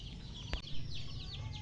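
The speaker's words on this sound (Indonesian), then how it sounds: "Kemudian saya mengamati ayam." A chicken clucks faintly in a short, brief call, with a few light chirps over a low outdoor background.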